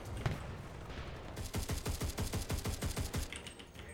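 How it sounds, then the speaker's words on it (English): Rapid submachine gun fire in the video game Enlisted: a single shot, then a fast rhythmic burst of about a dozen sharp cracks, moderately loud over quiet background noise. "Submachine gun kill."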